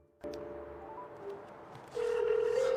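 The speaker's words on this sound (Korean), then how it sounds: "누군가에게 전화를 걸고 있습니다" A mobile phone is dialed to place a call, giving short tonal beeps and a sustained steady tone at moderate level, quiet and close with no talking.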